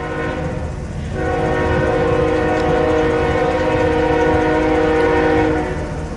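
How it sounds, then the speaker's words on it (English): An eastbound Union Pacific manifest freight train approaches on the western side of Fremont, Nebraska, its loud horn sounding one long, steady blast for several seconds over a rumbling engine. "This is an eastbound Union Pacific manifest coming into Fremont."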